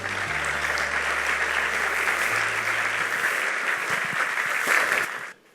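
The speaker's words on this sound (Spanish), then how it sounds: "Vamos a recibirle con un aplauso" A congregation claps steadily to welcome pastor Esteban Irving at an evening gathering in Miraflores, a dense, even round of applause lasting about five seconds and fading out at the end.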